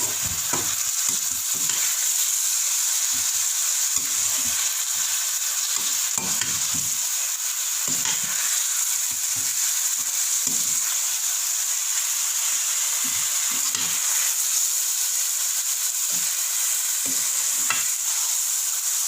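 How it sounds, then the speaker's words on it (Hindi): Mutton mince is stir-fried in a pan with a continuous loud sizzle, broken by frequent rhythmic scrapes and stirs of a spatula throughout. "इतना भूनेंगे कि कीमे का कलर चेंज हो जाए।"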